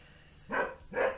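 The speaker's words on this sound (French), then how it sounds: "Désolée pour mes chiens" Dogs bark twice indoors in a home, with two short, fairly close barks.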